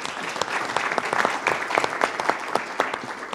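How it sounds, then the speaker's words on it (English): Audience applause at a county commissioner candidate forum: steady, moderately quiet clapping from a room of people, crisp individual claps blending into continuous applause for a few seconds. "How about a round of applause for them too?"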